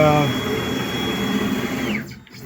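An Onefinity Journeyman X50 CNC router with a 10-inch Z system jogging along its axes, its stepper motors giving a steady whine that sweeps in pitch and stops near the end, heard under someone talking.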